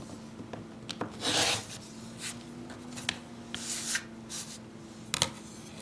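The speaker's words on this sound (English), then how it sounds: "I'm going to trim this side, lining up carefully." Trimming the edge of a fabric postcard, with short, close scraping and cutting strokes coming in a few uneven bursts over a quiet background.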